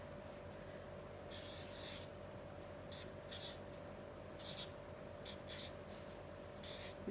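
Movie titles are handwritten, a pen scratching across paper in short separate strokes and bursts, close but soft, over a faint steady hum with no talking.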